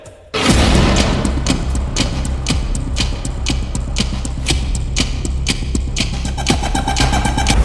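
A sudden loud boom from an explosion in Tehran, followed by a sustained heavy rumble scattered with sharp crackling pops that keeps going for several seconds.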